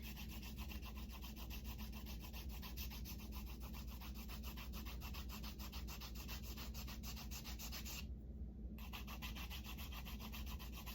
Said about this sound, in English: a good way to see if the sketchbook paper has a pattern or a texture to it is take your pen and rub over it